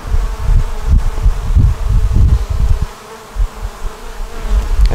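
Honey bees buzz densely at a double-deep nuc hive packed with brood and stores, a loud close drone that swells and dips in waves, with no talk over it.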